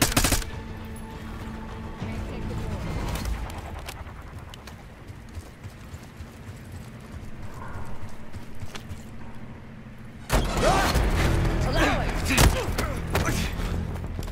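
Gunfire in Call of Duty: Black Ops 6, with sharp shots cracking out at the start, sparse distant pops through a quieter stretch, then a dense, loud burst of rapid fire in the last few seconds.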